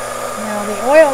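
Hair dryer blowing on oil-treated vellum paper indoors, a steady close whir whose pitch dips and rises briefly near the end as the airflow shifts.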